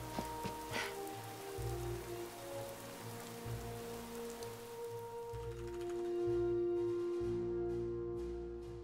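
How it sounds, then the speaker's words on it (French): Soft, steady rain in the video game Fallout 4 patters in the background, faint and continuous, beneath low sustained tones. "j'en ai un peu marre aussi d'entendre ces bruits de pluie"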